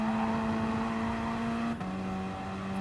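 Gr.4 race cars circling Dragon Trail Gardens II in Gran Turismo Sport, a steady sustained engine drone that drops pitch abruptly with a gear change, continuous and loud without pause.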